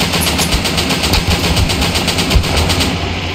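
Automatic gunfire in the BattleBit Remastered video game rattles out in loud, rapid continuous bursts, close and dense, with no talk.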